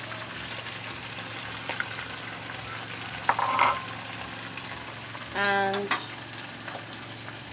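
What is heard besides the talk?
fish frying in a pan with crayfish added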